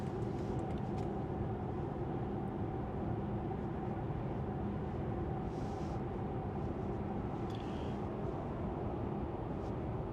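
Steady low road and engine rumble inside a BMW 7 Series diesel cruising on a highway at 130 km/h, a dense continuous drone with faint wind hiss and no talking.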